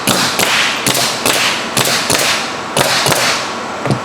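A heavy-duty staple gun fires repeatedly into the roof decking of a 2018 Heartland Big Horn RV, giving sharp, evenly spaced cracks about every third of a second over a loud, steady background.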